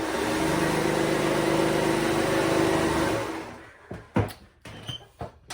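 A sewing machine stitching a neckband seam on a raglan top, a steady, close motor whir for about three seconds that stops abruptly, followed by a few soft handling clicks and knocks.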